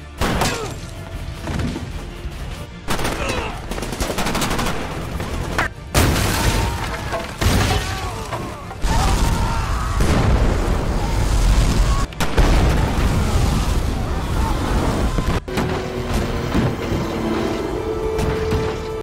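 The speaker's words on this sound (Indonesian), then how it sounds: "Swagger menyuruh Memphis untuk menembaki bom yang sudah dipasang" Gunfire and bomb explosions from the action film Shooter form loud, dense booms and rapid bursts, broken by abrupt cuts between scenes, with a busy soundtrack throughout.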